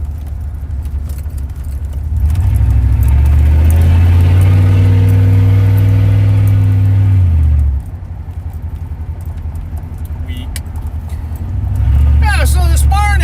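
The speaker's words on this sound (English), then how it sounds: "When I'm gunning the truck" A truck engine being gunned indoors or nearby, a heavy low roar that swells loud for several seconds, drops back to idle, then rises again, with someone talking over it.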